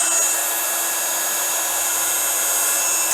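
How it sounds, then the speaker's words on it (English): A heat tool blows steadily over wet watercolour and Distress Oxide paint, a continuous loud whirring hiss with no pauses, close and alone. "I'm just going to give that a dry with the heat tool."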